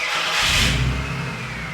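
A car engine with burned-in mufflers revs hard once, a loud, raspy exhaust roar that swells and then settles into a rumbling idle, close by and without talk.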